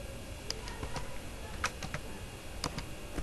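A name is typed on a computer keyboard in quick, light keystrokes, a short irregular run of clicks close by against a faint steady background hum.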